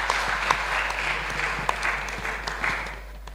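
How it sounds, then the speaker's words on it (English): At the icode784 Grand Finale prize giving ceremony, a crowd gives a steady round of applause as a guest walks to the stage, many hands clapping evenly before it begins to taper off. "let's give Mr. Avalon Morris a big round of applause as he comes to the stage"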